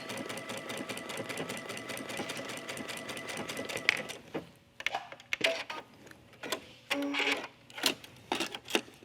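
A domestic sewing machine stitches a sleeve tab on a tunic, running as a steady rapid whir for about four seconds before breaking into short stop-start bursts with small clicks.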